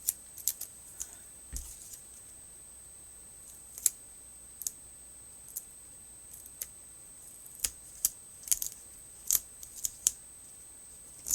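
Scissors snip through foam in short, irregular bursts, sharp metallic clicks spaced unevenly against a quiet background with no talking.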